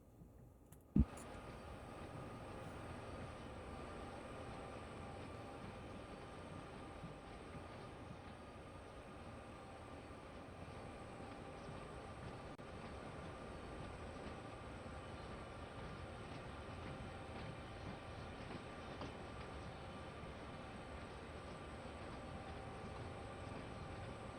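Two diesel locomotives run on Sherman Hill in the Train Sim World 2 game, giving a faint, steady engine rumble and rolling drone with an early click, continuous and unbroken for over twenty seconds, with no voices.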